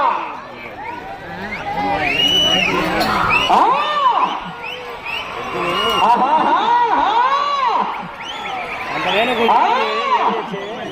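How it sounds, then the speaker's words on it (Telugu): A large crowd at a bull pulling contest in Mahanandi cheers and shouts loudly and continuously, with rising whoops and high excited voices swelling in waves. "కేకల్లో కేరింతలు రైతులు ఉత్తేజపడతారు"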